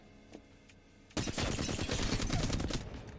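A rapid burst of automatic weapon fire from the Apex Legends video game follows a quiet second, then runs loud and continuous for about two seconds with no talk.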